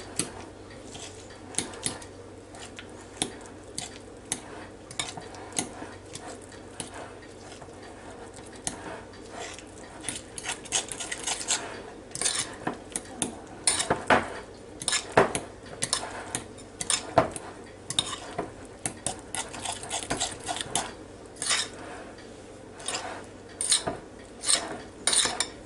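A utensil scrapes and clinks against a bowl while deviled egg filling is mixed with shredded cheese, with irregular bursts of scraping and tapping that grow busier and louder partway through.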